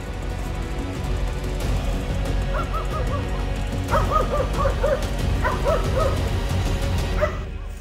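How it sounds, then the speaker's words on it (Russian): Several dogs bark repeatedly in the distance while chasing a large bear through a Caucasus gorge near Vladikavkaz. The barking comes in rhythmic bursts over steady outdoor background noise. "У меня собаки идут с лаем"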